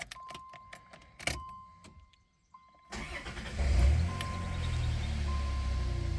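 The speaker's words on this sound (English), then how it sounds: "Let's fire this thing up on this new alternator, see how we're doing." A 1990 Dodge Grand Caravan LE with a new alternator starts up after some clicks and rattles, its engine catching and settling into a steady, close idle hum.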